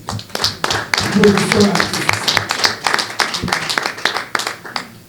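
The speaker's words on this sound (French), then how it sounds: "Nous allons applaudir pour lui" Audience applause at a press conference honouring a Congolese music star, a dense, sustained patter of many hands filling the room under a speaking voice.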